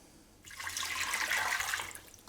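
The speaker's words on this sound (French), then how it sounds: "On peut tout de suite rajouter l'eau." Water pours steadily into a saucepan for about two seconds, a close, splashing gush that starts abruptly and tapers off.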